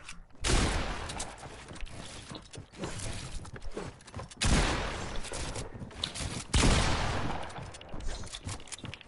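Shooter video game gunfire in heavy bursts, loud and dense, with three sharp blasts standing out among continuous rattling shots and mechanical clatter.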